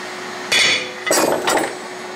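A hammer strikes a transfer punch to mark the base for a Baldor electric motor, giving three close, sharp metallic hits against a quiet workshop background.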